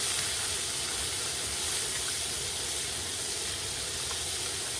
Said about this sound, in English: Hope you can hear that sizzle because the sizzle's ace.